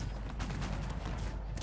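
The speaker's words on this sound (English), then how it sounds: "Hold your line and open fire with everything you have, Commander" Musket volleys in Cossacks 3, a dense, distant crackle of many shots blending into rolling bursts of gunfire at moderate loudness.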